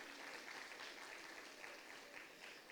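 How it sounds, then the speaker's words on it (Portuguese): Faint, distant applause from a crowd, a steady patter of many hands clapping throughout. "Um aplauso."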